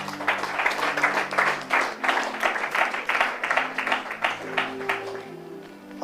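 A church congregation applauding, steady rhythmic clapping from many hands through a hall, with tones and some voices underneath.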